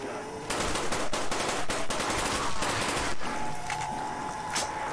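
Rapid automatic gunfire in the Call of Duty zombies mode crackles in dense bursts for several seconds, then a few scattered shots ring out over a lingering tone, loud and close.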